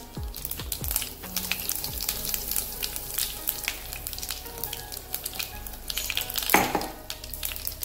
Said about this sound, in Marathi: आता जिरं मोहरी छान तळली गेली आहे